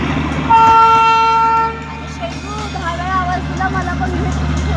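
The Darjeeling toy train runs through the hills, its horn sounding a sustained tonal blast over the low mechanical rumble, followed by fainter squeals and rolling noise as the train continues.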